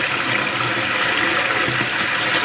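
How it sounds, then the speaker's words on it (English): Water courses steadily through the bacterial filters of an outdoor koi pond system, a broad, even rushing and splashing noise, close and continuous with no voices. "the water flows through the outlet to the third bacterial filter"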